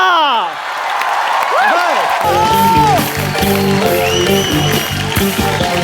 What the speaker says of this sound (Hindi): एक बार गोविंदा सर के लिए जोरदार तालियां